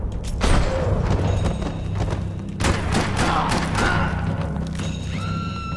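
Gunfire from the action game Max Payne 3 comes as a string of heavy, booming shots over a steady low rumble of game ambience, with some mechanical clatter between the bursts.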